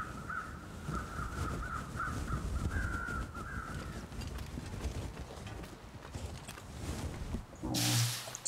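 Crows caw repeatedly near an animal carcass in The Long Dark survival game, a series of rhythmic, moderately distant calls over crunching footsteps, ending with a sudden loud burst of noise.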